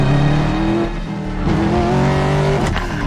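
A car drives by in the video game Medal of Honor: Warfighter, its engine hum steady and close, layered with game music and ambience over about three seconds.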